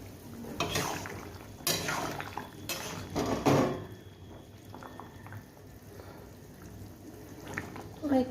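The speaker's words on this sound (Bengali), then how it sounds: "ঝোলটা টকবক করে ফুটছে।" Fish curry broth of vegetables and fried spices bubbles at a rolling boil in a pan, a close, steady simmer broken by a few loud clattering utensil knocks in the first half.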